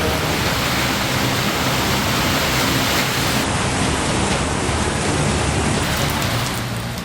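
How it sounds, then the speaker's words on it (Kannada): Steady rain falls in Bengaluru, a dense, even hiss that stays loud and unbroken throughout with no voices. "ಆದ್ರೀಗ ಸಿಲಿಕಾನ್ ಸಿಟಿಯಲ್ಲಿ ಮಳೆ ಹನಿಯುತ್ತಿದೆ"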